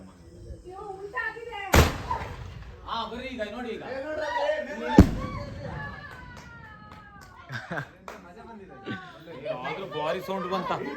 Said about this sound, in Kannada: ಸೊ ಇವಾಗ ಇನ್ನೊಂದು ಪಟಾಕಿನ ಹಚ್ತಾ ಇದ್ದೀವಿ